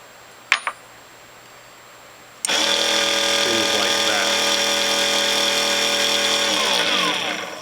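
A metal lathe spools up after a couple of sharp clicks and then runs steadily with a loud, close whine and hum, holding constant for several seconds before beginning to wind down.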